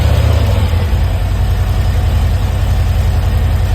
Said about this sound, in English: We'll just go ahead and start the bike.